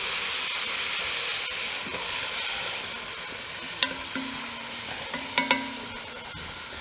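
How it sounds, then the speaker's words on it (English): Mince frying in a pan over a campfire at a camp site, a steady hiss and sizzle with a few sharp clinks and scrapes of stirring, close and fairly loud, with no talking. "we fry the mince till it's almost done"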